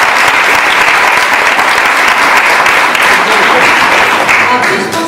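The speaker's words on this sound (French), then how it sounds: "je pense qu'on peut l'applaudir" A crowd at an eloquence competition final in Bordeaux breaks into loud, sustained applause for a speaker, dense clapping that fills the whole stretch, with faint voices mixed in.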